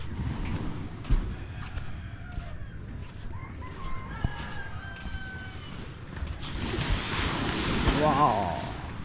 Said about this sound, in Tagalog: ganda na ng dagat